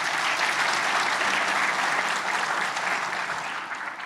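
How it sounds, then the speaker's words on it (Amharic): Dense audience applause, many hands clapping loudly and evenly throughout, tapering slightly toward the end. "አጨብጭቡ ለዚህ"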